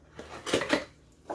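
A knife works at the packaging of a Hamilton Beach Personal Creations blender, producing a few short scraping and clicking bursts close by, with quiet pauses between them and no talking.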